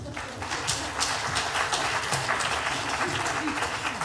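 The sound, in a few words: audience applause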